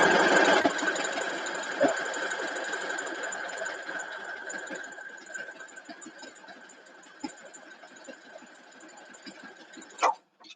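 A sewing machine stitches a block for a farm-girl vintage quilt, running as one steady, continuous drone for about ten seconds and then stopping with a brief clack at the end.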